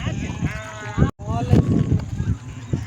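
Sheep bleat close by in a quick run of wavering cries, broken by a short gap midway, with voices in the background.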